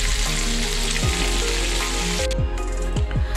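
Marinated fish frying in clean hot oil, a loud, close, continuous crackling sizzle with a few clinks of a utensil against the pan.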